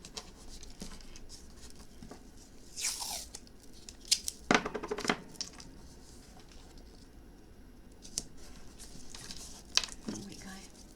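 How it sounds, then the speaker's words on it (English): Masking tape is torn and pressed onto 6-inch wooden pieces for a book box, giving a few short ripping bursts and soft rubbing scrapes at close range against a quiet workshop background. "Put some masking tape on."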